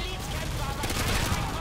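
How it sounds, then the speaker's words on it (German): Gunfire in the video game Call of Duty: Modern Warfare 2, a dense, continuous burst of shots and explosive rumble across the whole moment, with no clear voice on top. "wovon kommen jetzt die Schüsse?"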